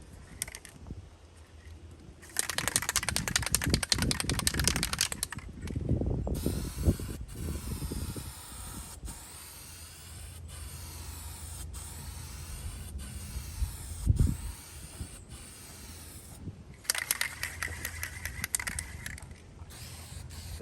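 Spray paint can with a faulty nozzle hisses in bursts, spraying textured paint onto a plywood bed for a 9th generation Suburban, with spitting sprays separated by pauses, clicks and handling noises.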